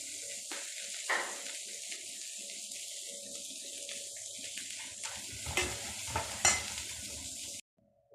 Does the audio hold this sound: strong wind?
no